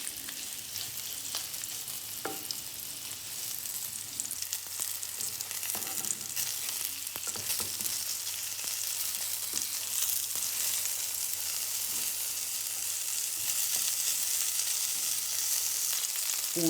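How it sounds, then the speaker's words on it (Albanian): Chicken pieces lightly frying in olive oil in a pan, giving a steady soft sizzle with occasional crackles and stirring clicks throughout, fairly quiet and with no talking. "Japim të skuqur të lehtë."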